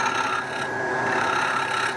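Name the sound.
hollowing gouge cutting wood on a lathe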